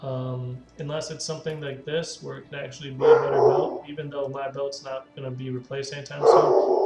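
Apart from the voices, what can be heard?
dogs barking in the background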